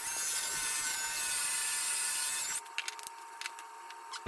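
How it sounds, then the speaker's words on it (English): A Forstner bit bores a dowel hole in wood with a steady high whine and rasp for a couple of seconds, then stops abruptly, leaving a few faint knocks and scrapes. "I'm going to use my Forstner bit to make the hole for the dowel"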